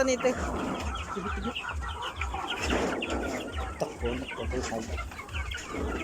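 Chickens cluck near a jungle yard, giving a busy stream of clucks and squawks from several birds, with people talking over them at times.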